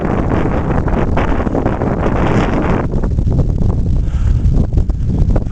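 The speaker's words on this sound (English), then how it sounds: "It's windy" Strong, steady wind gusting across the microphone on the Rhyd Ddu path up Snowdon, a loud continuous roar and buffeting that eases slightly partway through.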